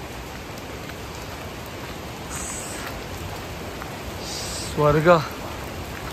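Rain falling near Marleshwar temple, a steady close hiss of drops throughout, with someone speaking briefly near the end.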